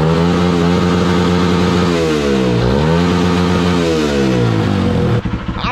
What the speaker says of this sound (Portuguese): Se liga, ó o cortão dela.